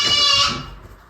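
A goat on a rural acreage gives a single loud, close, nasal bleat that wavers briefly and then fades out.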